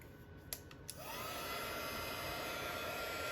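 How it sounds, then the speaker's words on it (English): A heat embossing tool starts after a few clicks and then blows hot air in a steady, close whirring hiss for a card-making project. "bring in my embossing tool"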